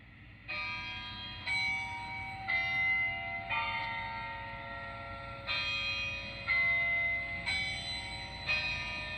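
Bells ring in a steady series of about nine clear, resonant strikes roughly one second apart, each sustaining and overlapping the next over a low background rumble, with no talking.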